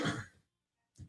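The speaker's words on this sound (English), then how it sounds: "Yes, I will cough in your ear." A single loud throat-clearing cough close to the microphone, followed by a short silence and the start of a second brief cough.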